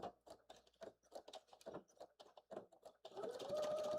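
A sewing machine runs a blazer sleeve seam at 5/8-inch allowance, with a steady close whirring hum for the last second after a stretch of soft tapping and handling noises, with no talk.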